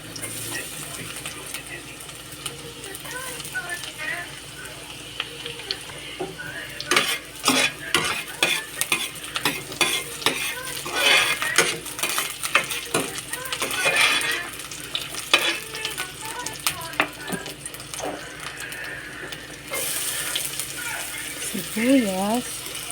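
Garlic sautés in a pan with rapid clattering scrapes of stirring over a steady crackling sizzle, strongest in the middle, with a voice heard at times.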